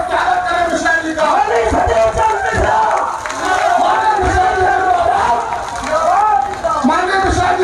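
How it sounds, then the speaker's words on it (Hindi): A large crowd at an Indian political rally cheering and clapping to welcome Mishra, a dense, loud roar of shouting voices and applause with rhythmic chanting swells, sustained throughout. "सारे लोग खड़े हो जाके हाथ ऊपर करके ताली बजा के स्वागत करें मिश्रा जी का"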